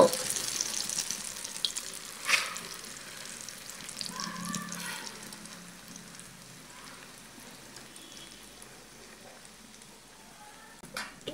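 A vegetable and egg mixture poured into hot oil for a vegetable egg roll, frying with a soft, steady sizzle punctuated by a couple of sharp clatters, no voices.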